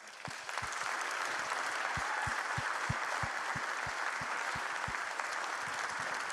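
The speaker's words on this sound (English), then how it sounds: "can we give him a round of applause?" A community event crowd applauds a speaker at an evening of hope, a broad, even roar of clapping with a few sharper nearby claps standing out in a regular pulse, steady from start to finish.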